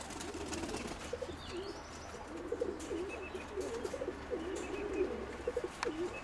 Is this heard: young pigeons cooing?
yes